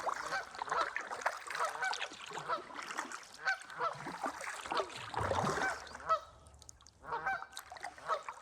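A goose honks near a kayak on a low-tide creek, its harsh calls repeating in bursts at close range amid outdoor noise and paddle sounds, with no talking.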